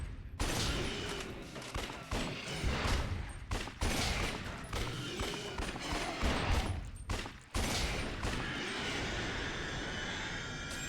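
Gunfire in the game Judgment, loud dense bursts of rapid shots running almost nonstop, broken by a few short pauses.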